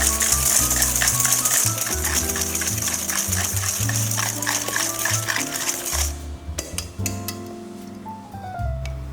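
Egg yolks whisked with sugar in a bowl for custard cream: a steady, rapid metallic scraping and clicking rhythm, close and continuous, with background music throughout and the whisking easing off near the end.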